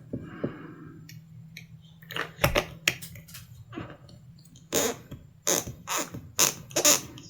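A knife trims excess cured resin from a handmade mold, producing irregular scraping cuts and sharp clicks in short bursts, close and moderately loud, with no voices.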